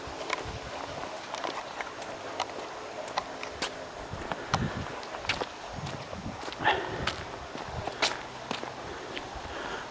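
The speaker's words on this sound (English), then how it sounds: "We now walk to the other end of the lock" Footsteps walk along the edge of a canal lock, with steady, fairly close scuffing steps on a hard surface over a light breeze and faint outdoor background.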